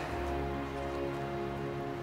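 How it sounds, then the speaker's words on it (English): Steady rain falls throughout, a soft continuous hiss of drops on a surface with a faint low hum beneath, no voices present. "I love that it's raining."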